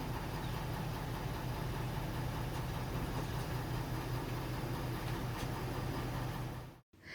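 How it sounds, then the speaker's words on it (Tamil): An old dump trailer truck's engine idles in a steady, droning rumble that holds evenly for several seconds before cutting out abruptly near the end, with no voices heard. "இந்த வண்டிக்கு பேர் வந்து டம்ப் ட்ரெய்லர் அப்படின்னு சொல்லுவாங்க"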